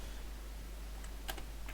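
Quick, light keystrokes on a computer keyboard, a short burst of clicks near the end over a steady low room hum, no talk.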